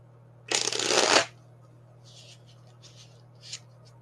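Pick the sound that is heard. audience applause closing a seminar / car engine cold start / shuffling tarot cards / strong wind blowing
shuffling tarot cards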